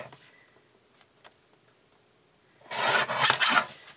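Book page paper trimmed for card making: faint handling taps first, then a loud, close rasping cut lasting about a second.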